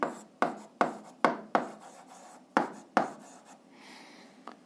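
A maths solution for an eighth-grade algebra exercise is written out by hand in a quick series of about eight sharp scratchy strokes, each fading fast, close and alone without speech.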